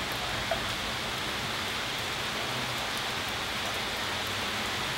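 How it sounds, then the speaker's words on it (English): Heavy outdoor monsoon rain pours in a dense, steady hiss that stays loud and unbroken throughout, with no voices. "It's raining pretty heavy with the..."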